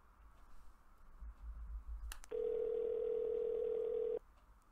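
An unanswered phone call in the video game Sally Face: a couple of sharp clicks, then a loud steady electronic tone that holds for about two seconds and cuts off, over a low background rumble.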